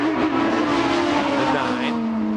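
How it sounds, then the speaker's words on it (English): A Champ Car engine drones loudly and continuously during qualifying at the Denver Grand Prix, with a high sustained tire squeal riding over it as the car works through a corner. "You hear the tires squeal in every single corner."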